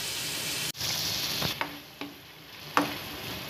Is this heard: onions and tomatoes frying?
yes